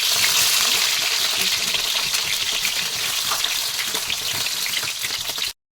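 Cut eggplant, drained of water, dropped into hot oil and sizzling loudly and steadily in a pan for several seconds before cutting off abruptly.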